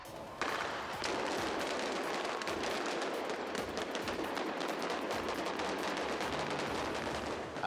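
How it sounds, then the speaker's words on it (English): Bullet-hit squibs with small detonators packed into the ground go off for a film stunt, a dense, sustained burst of rapid loud cracks and pops like gunfire, continuing for several seconds. "We're putting bullets into the ground again. With a nice little detonator shoved into it."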